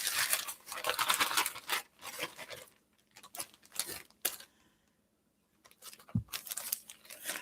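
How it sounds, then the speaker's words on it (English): Plastic packaging from infusion supplies rustles and crinkles in bursty, fairly close handling sounds, busy for the first two seconds and returning in patches with quiet gaps between. "I apologize for all of the rustling."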